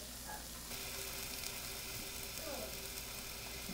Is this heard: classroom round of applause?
no